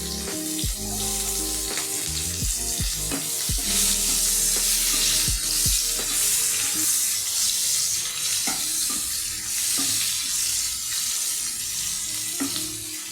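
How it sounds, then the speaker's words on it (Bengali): Chopped onions and bay leaves fry in oil for a desi chicken curry, a steady close sizzle running throughout with occasional stirring clinks and scrapes, no voices. "পেঁয়াজটা একটু ভাজা ভাজা হোক।"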